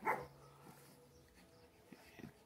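A single sharp pug bark at the start, then quiet with a few faint yips and rustling in the background.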